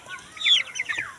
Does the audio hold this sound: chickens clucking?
yes